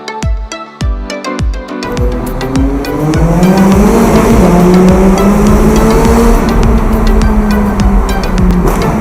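A McLaren 570S sports car starts with sharp engine blips, then revs up and drives off, its loud, near engine note rising and falling with gear changes and a rough, steady roar.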